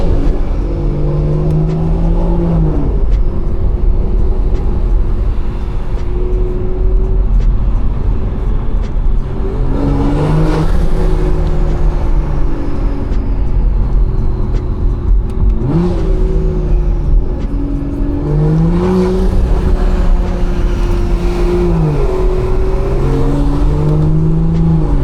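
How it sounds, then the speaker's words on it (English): A stage 2+ tuned BMW 340i drives with a loud, continuous engine drone and turbo whoosh that rises and falls in several swells as it accelerates and lets off, with no talking. "Turbo noise is crazy."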